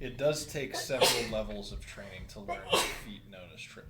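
A single sharp sneeze bursts out among people talking around a tabletop role-playing game session, brief and close, with speech continuing around it.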